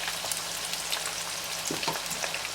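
Onion, ginger-garlic paste and green chillies frying in a pan for a masala fish curry give a close, steady sizzle with faint stirring scrapes.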